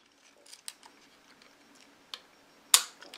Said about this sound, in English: You must use it and exercise your shutter.